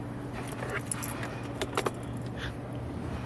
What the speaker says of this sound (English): We're going to put the keys back in ignition so we can turn the steering wheel